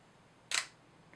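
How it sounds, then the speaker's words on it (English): A Nikon D7200 DSLR shutter snapping open as the release button is held down, a single crisp mechanical clack, close and clear against a quiet room. "first open the shutter by holding down the shutter release button"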